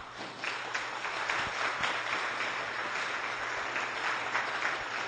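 An audience at a medical talk on Xingu indigenous medicine gives sustained applause, a dense, even patter of many hands clapping at moderate distance, with no talking over it.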